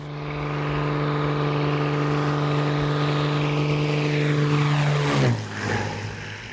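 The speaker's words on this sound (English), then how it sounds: "A short ride in Tony's plane took us to this outpost, a few miles away from the main compound." Small propeller plane droning steadily at close range with a strong engine hum, then a sudden drop in pitch near the end as the power changes, on a short flight between a main compound and an outpost in Tanzania.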